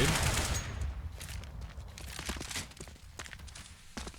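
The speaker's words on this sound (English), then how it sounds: "Try to rattle off a couple of shots, make them think that he's coming over in that direction" Gunfire from Counter-Strike on the map Cache, heard as a few short, dense bursts of shots. They start loud and crowded, then sit in a quieter mix with scattered sharp cracks.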